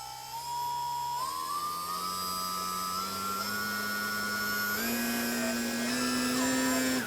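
Electric motor of a Durafly TundraPX profile 3D RC bush plane held at 50% throttle, a steady close whine that steps up in pitch a few times and stays loud throughout.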